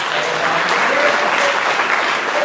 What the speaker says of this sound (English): give him a round of applause for